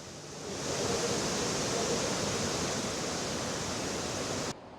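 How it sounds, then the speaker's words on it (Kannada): The Kaveri river roars over rocks at Mekedatu through dense forest, a steady, loud, broad rush of water that holds constant throughout and cuts off abruptly at the end. "ದಟ್ಟ ಕಾಡಿನ ನಡುವೆ ಭೋರ್ಗರಿತಾ ಇರುವ ಕಾವೇರಿ ಮೇಕೆದಾಟು ಮೂಲಕ ತಮಿಳುನಾಡು ಸೇರ್ತಾ ಇದೆ"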